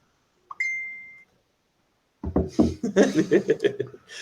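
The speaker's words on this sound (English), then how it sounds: "Is that your bad cube alert on your phone?" A single phone alert beep rings out clearly in a quiet room, a short tone that holds for about a second, followed by laughter and talk.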